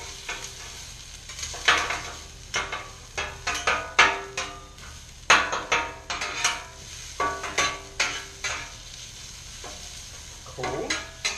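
Onion rings sizzle on a flat griddle for Philly cheese steaks, with steady frying crackle broken by repeated scraping and stirring strikes of a metal spatula against the hot surface.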